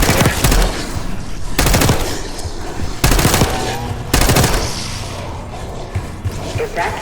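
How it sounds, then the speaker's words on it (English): Rapid bursts of machine gun fire in Call of Duty: Black Ops 6 crackle in several loud volleys, separated by short pauses, with game-like impacts and distant rattling. "You hearing gunfire?"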